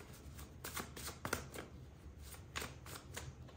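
Tarot cards are shuffled close up and quietly, giving a series of soft papery riffles and flicks in an irregular rhythm.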